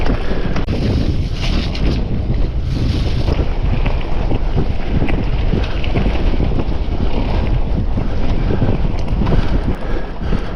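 Strong wind roars steadily across an open hilltop on the Cleveland Way near Boltby Forest, buffeting the microphone with continuous low rumbling gusts throughout, with no voices.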